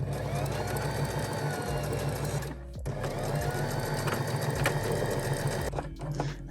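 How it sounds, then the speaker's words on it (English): Sewing machine running steadily while stitching a line across elastic on a pair of shorts, a continuous close whirring hum that pauses briefly around the middle before starting up again. "And I'm just going to stitch a line."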